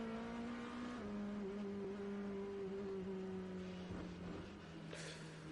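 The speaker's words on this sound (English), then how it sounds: "The noise of the Porsche 963 that was doing the chasing of Verone." A Porsche 963 hypercar's engine howls loudly and steadily on track during a WEC endurance race at Circuit of the Americas, a sustained high-pitched drone with shifting pitch as it chases another car, no talk over it.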